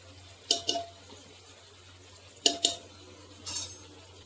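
Mutton for a dum biryani being stirred in a pan, a metal spoon scraping and clinking against the pan in three short bursts of two or three knocks each, set apart by quiet gaps.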